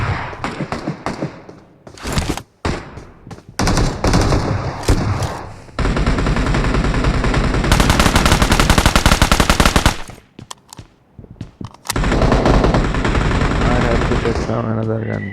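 Heavy gunfire from a big weapon in a video game, loud bursts of rapid automatic shots with brief gaps, later a long sustained volley, mixed with game noise and some talk.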